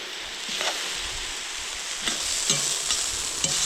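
Julienned carrots fry and sizzle in a kazan over a campfire for lamb plov, a steady bright hiss broken by a few scraping stirs.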